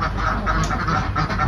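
Muscovy ducks on a duck farm give a steady, close run of raspy quacks and calls over continuous flock noise and hiss.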